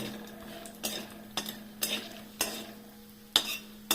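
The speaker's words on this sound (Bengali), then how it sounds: "একটু যতক্ষণ না একটু গন্ধ বেরোবে ততক্ষণ আমি একটু বেশি করে নাড়ব" Food being stirred in a pan while cooking doi katla, the spiced curd-based rohu fish dish, with a quiet sizzle under regular scraping clinks of a spoon against the pan, about one every half second.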